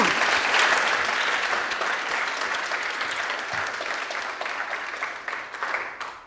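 Audience applause at an awards ceremony fills the whole stretch, a dense, steady wash of many hands clapping that eases slightly toward the end, close and continuous without talk.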